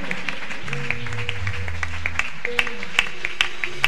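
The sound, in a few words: congregation applauding in church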